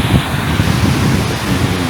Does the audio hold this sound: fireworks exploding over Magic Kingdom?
no